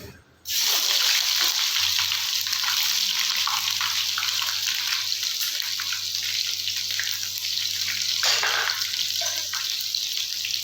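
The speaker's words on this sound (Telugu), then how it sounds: "ఇప్పుడు నేను ఇందులో అల్లం వెల్లుల్లి పేస్ట్ వేసుకుంటున్నాను అనమాట" Steady loud sizzling hiss of ginger garlic paste frying in hot oil, continuous and close, with no voices.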